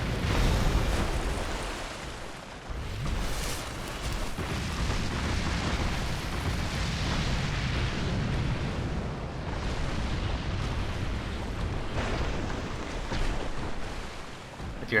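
Fiery eruptions from the Firestorm spell in Dark Souls II roar in a dense, continuous rumble with bursts of crackling blasts throughout, loud and close, with no talking.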